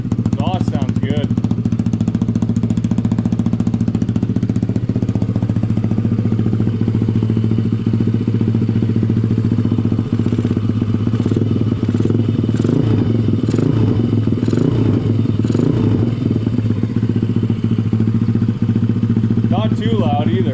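A Honda ATC 70 with a swapped-in Piranha 140cc engine idles with a steady, rough, rattling drone throughout, close and loud, with some clattering and a voice speaking over it.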